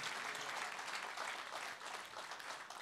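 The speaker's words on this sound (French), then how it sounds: "Applaudissons pour le Seigneur" A church congregation applauds for the Lord during a sermon: a dense, even patter of many hands clapping at once, fairly faint and distant, sustained with no pauses and no speech over it.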